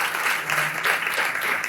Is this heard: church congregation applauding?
yes